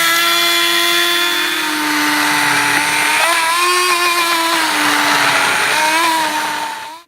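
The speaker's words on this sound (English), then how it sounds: "I'm just going to use my hand blender and give it a nice quick blend" Hand blender whirring through Brussels sprout soup in a pot, a loud steady electric motor whine with slight shifts in pitch as it works, running continuously alone before cutting off at the end.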